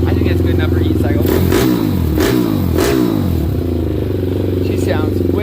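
A Daytona Anima pit bike, warmed up and freshly reassembled after a teardown, revs loudly close by, with repeated sharp throttle blips rising and falling over a steady idle.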